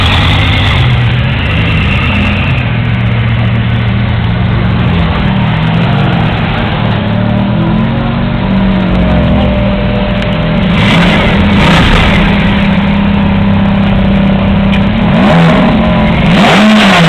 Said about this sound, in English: Rev it up. Give it a blip!